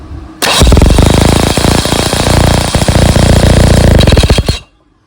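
Electric starter cranking a 1968 18 HP Evinrude outboard engine, a loud, steady rapid chugging churn lasting about four seconds before cutting off abruptly into silence.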